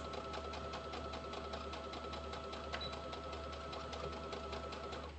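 A sewing machine runs steadily while back stitching the hem of a T-shirt dress, a fast even mechanical whir with rapid ticking, faint and continuous with no talk.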